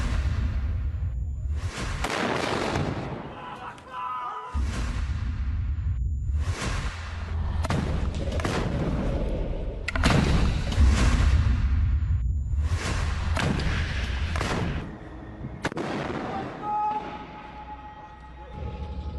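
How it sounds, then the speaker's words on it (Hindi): Rocket attack on an Israeli tank in news footage: repeated loud blasts and whooshing bursts arrive in irregular clusters, with sharp explosive cracks separated by brief pauses and a low rumble between them. "इजरायली टैंक पर तेज रफ्तार रॉकेट अटैक की तस्वीरें आपको दिखाने जा रही हूं।"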